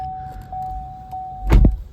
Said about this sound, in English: So sometimes when you get into the car, it makes this crazy noise, and it sounds super dramatic